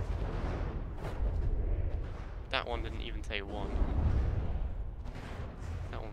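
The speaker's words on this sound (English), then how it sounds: "I'm curious to know how many shots these wooden structures are going to take from our main cannons." Main cannons firing broadsides at wooden houses in the game From The Depths: deep booming blasts roll under steady background rumble while someone talks over them.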